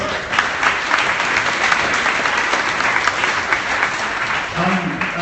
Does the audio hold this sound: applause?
yes